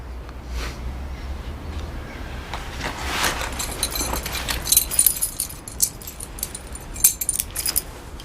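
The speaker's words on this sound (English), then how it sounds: "I'll have my keys back if you don't mind" A bunch of keys jangles and clinks as it is handed back indoors, a light metallic rattle that grows busier toward the end over a steady low background hum.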